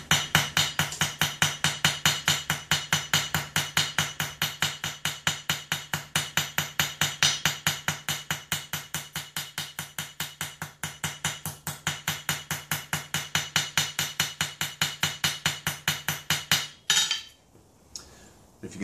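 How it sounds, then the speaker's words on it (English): Cross-peen hammer rapidly striking steel rose petals, dozens of sharp ringing blows in a fast, even rhythm for most of the clip, close and loud, then stopping abruptly. "I'm going to texture them using a cross-peen hammer"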